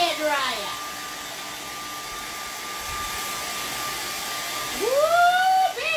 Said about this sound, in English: I'm going to give it the hairdryer.